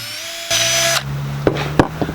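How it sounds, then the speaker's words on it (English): A power drill whines at high pitch as it bores a test hole through a GoPro waterproof plastic case, then shifts to a lower steady hum broken by several sharp clicks and knocks, loud and close. "the first thing I'm gonna do is drill test hole first to see how it drills"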